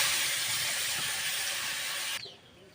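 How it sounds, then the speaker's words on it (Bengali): Boiled pointed gourd fries in hot oil, a loud steady sizzling hiss held close for about two seconds before it abruptly drops to a faint low crackle. "পটল ভাজিচ্ছি"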